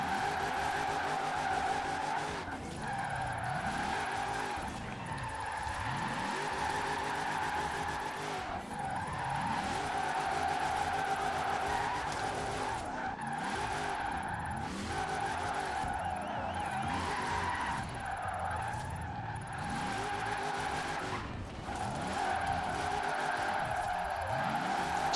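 Cars drifting around the Ambleside Village circuit in the Forza Horizon 4 racing game, with continuous loud engine drone and repeated rising-and-falling tire squeals and skids throughout, no speech.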